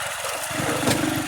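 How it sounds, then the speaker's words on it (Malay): Motorcycle engine running steadily while riding past a school and mosque in a quiet Malaysian village, a continuous mid-pitched drone that rises slightly toward the end. "Saya atas motor lah."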